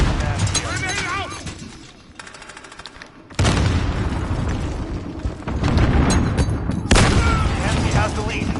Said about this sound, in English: Throwing grenade. Grenade down.